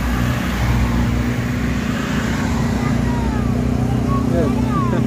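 A bus engine drones loudly on a bypass road with a low steady rumble, traffic and other buses around it and a voice talking over it.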